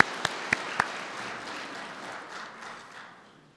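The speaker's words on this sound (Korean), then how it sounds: "우리 할렐루야 하면서 박수합시다" Church congregation applauding during a Sunday worship service, a few sharp early claps spreading into a soft, sustained wash of clapping that fades out, fairly quiet and distant in a large room.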